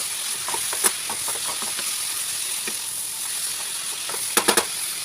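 Carrot halwa cooking in ghee in a pan, with a steady soft sizzle and hiss running throughout and a few sharper clicks and scrapes of stirring near the start and end.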